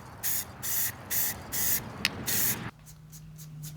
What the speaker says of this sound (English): now I'm hitting them with my green spray paint